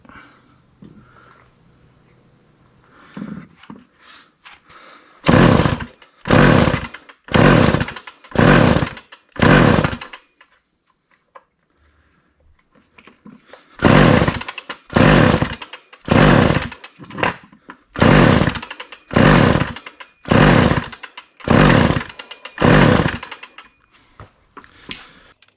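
A Homelite 150 Automatic chainsaw fires in repeated short bursts: two clusters of five or six loud, evenly spaced pulses each, separated by a quiet gap, like an engine catching briefly on choke without settling into a steady run.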